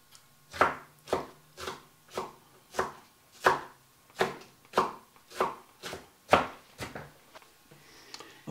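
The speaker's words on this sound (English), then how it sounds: "Marie's got the peppers and onion chopped up" Peppers and onion are chopped on a cutting board for a Mexican beef and rice casserole: about a dozen evenly spaced, crisp knife strikes ring out close and clear over near silence.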